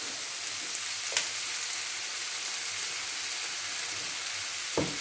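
Zucchini and cherry tomatoes fry in a pan, giving a steady, fairly quiet broadband sizzle throughout with a couple of faint clicks, and no voices.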